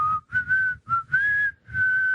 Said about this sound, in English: Let me see you whistle now,